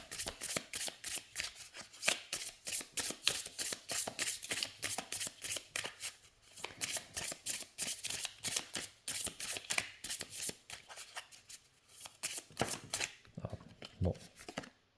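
A deck of oracle cards being shuffled and cut by hand, with steady rapid riffling and slapping that continues close up and clear for over a dozen seconds.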